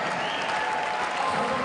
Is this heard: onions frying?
no